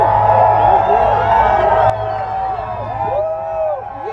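Large crowd at a Trump political rally cheering and whooping, a sustained roar of many voices heard from a distance with shouts rising and falling throughout.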